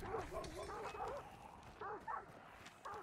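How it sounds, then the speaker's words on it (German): Dogs bark in the video game Hunt: Showdown, with a run of short, faint yips and whimpering barks in quick bursts, then a pause and a few more yelps. "Die Hunde."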